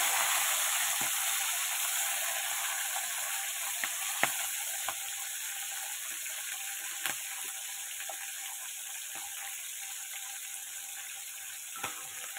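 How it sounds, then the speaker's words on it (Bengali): Garlic fries in hot oil with a steady, quiet hissing sizzle, broken by a few faint clicks of a utensil against the pan, close but soft with no voices. "এগুলো একটু ভালো করে ভাজা করে নেব।"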